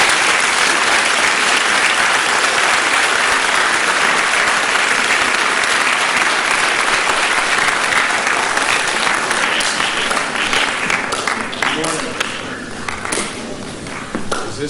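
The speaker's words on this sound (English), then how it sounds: "I'd like to introduce to you and give him a nice round of applause" Loud, steady applause from a school festival audience greeting a judge, dense clapping that holds for about twelve seconds and then thins out into scattered claps and taps.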